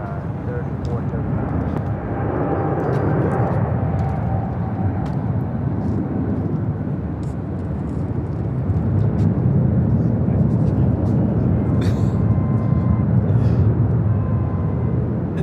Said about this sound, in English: This is Turkish Airlines Flight 180 taking off to Istanbul on a 777-300ER.